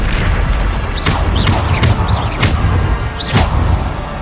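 Bombarda spell explosions in the PS5 game Hogwarts Legacy burst out repeatedly, each a sharp boom with a swooshing tail, landing every half second or so over constant battle noise.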